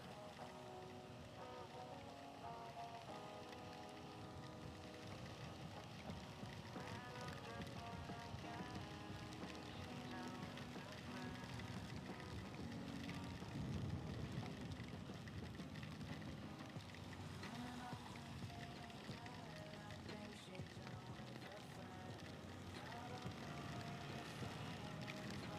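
Steady rain hisses through a roadside ride past lane closures, heard as continuous broadband wash with wind and traffic rumble, faint and unbroken for the whole stretch without talk.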